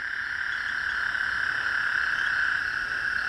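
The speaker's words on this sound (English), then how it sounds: "joining the toad chorus" A toad chorus trills steadily at night in Austin, Texas, a continuous dense drone of many calling toads with no pauses, mixed with faint insect-like chirping.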